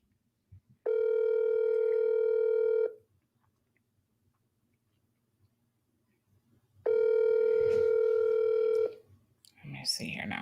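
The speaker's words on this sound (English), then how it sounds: "So let's see if we can just get Katie on the phone." A telephone dial tone while a call is being placed on an unlimited phone plan: two steady, clear tones of about two seconds each, separated by silence, with faint sounds at the end.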